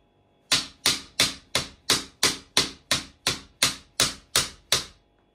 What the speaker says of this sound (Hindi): ये ले लिया लकड़ी और अब मैं आपको ठोक के बताता हूं